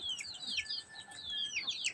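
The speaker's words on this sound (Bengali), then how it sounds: "আমার মুরগিগুলো" Chickens cluck and chatter continuously nearby in winter, several birds overlapping in quick, high calls with no talking.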